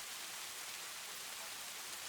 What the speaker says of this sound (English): It's the kind of place where the rain falls heavily, drenching everything in its path.